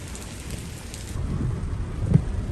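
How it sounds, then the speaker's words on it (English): Rain falling outdoors in storm-damaged Fort Myers, Florida, a steady wash of hiss with low rumbling underneath that swells slightly partway through, no voices. "So it's raining."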